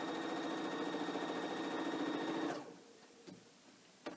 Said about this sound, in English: I am going to back stitch this. So as I stitch along here